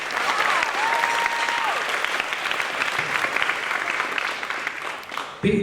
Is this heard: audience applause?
yes